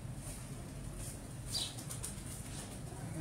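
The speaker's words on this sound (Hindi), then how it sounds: "हाँ जी टैडी कबूतर, टैडी कबूतर है हाँ जी" A pigeon of the teddy breed flaps its wings in a brief rustling burst near the microphone against a steady background hiss.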